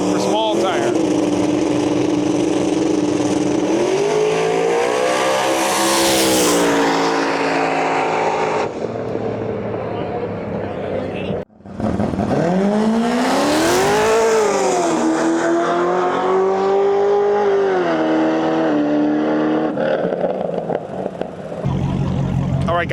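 A Ford Mustang Fox body drag car at a small-tire drag racing event roars loudly up close, its engine note rising and falling through revs, cutting out abruptly midway, then surging again in a long, powerful run.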